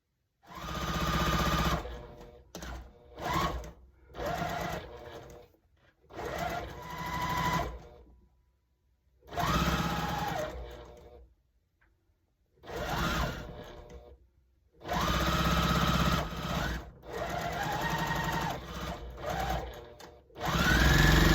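A sewing machine stitches dark fabric strips onto a quilt strip, running in repeated bursts of steady whirring separated by short pauses, close and alone.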